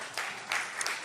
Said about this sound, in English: I don't know about the applause